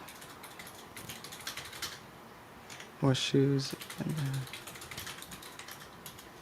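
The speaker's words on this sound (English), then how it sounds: "Typing frantically." Someone types rapidly on a computer keyboard in a short frantic burst of close clicking keystrokes, with a person speaking briefly near the start.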